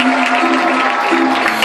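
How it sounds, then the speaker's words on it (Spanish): Audience applause at a neighbourhood association charity singing event, a steady wash of clapping with a held tonal hum underneath, moderately loud throughout. "se merece un fuerte aplauso"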